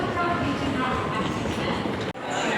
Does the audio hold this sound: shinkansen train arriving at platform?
yes